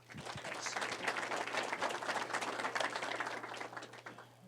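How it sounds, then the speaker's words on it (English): An audience at a chamber legislative breakfast claps together in a warm, continuous round of applause, fairly quiet and distant, swelling briefly and then fading out at the end. "So give him a round of applause."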